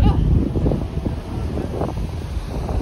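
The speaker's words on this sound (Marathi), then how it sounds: "गार वारा आहे," Cold wind blows outdoors around sunset, buffeting the microphone in loud low rumbling gusts that rise and ease steadily throughout, with no other sound standing out.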